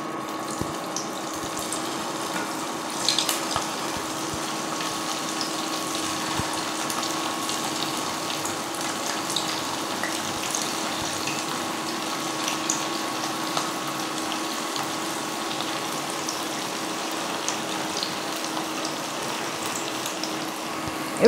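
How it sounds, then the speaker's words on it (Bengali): Chicken Manchurian balls deep-fry in hot white oil with a constant bubbling hiss, an even, unbroken wash of sizzling that runs the whole time at close range with no speech. "এবারে এগুলিকে ভেজে নেবো, একদম গোল্ডেন কালার করে ভেজে নেবো।"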